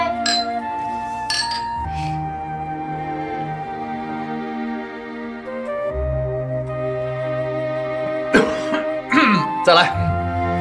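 Glasses clink together in a toast over Shaoxing rice wine at a dinner table, a few sharp bright chimes near the end, with music and voices running underneath.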